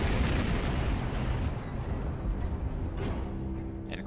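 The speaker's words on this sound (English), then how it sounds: "At this point, the ship will explode" Starship explosion in the space game Star Trek Online: a loud, rumbling blast that fills the start and slowly decays into a lingering roar, without speech.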